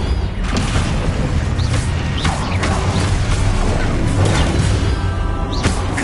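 A Confringo spell blast in Hogwarts Legacy bursts out loud and dense, with booming impacts and whooshing streaks layered over busy game noise for several seconds.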